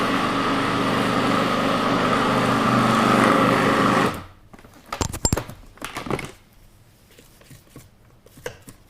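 A small electric grinder whirs loudly for about four seconds, grinding ingredients for lemon pepper chicken. It cuts off and is followed by clattering knocks and handling noises.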